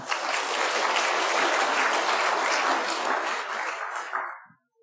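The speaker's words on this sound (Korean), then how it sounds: "우리 격려의 박수 한번 부탁을 드립니다." A church congregation gives a burst of encouraging applause, dense and loud, holding steady for about four seconds before tapering off into silence.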